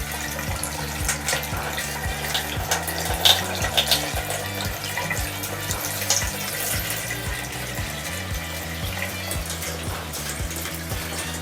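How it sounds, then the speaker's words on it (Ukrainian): Fresh hydroponic nutrient solution pours into a bucket of a home DWC tomato setup while the old solution drains out, a steady close splashing and running-water wash with a low pump-like hum beneath. "Заливаємо новий розчин, старий витікає звіту."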